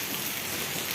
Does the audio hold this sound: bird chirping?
no